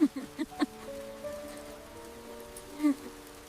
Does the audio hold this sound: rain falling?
yes